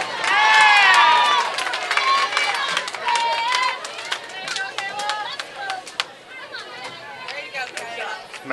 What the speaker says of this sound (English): Matt's favorite cheer.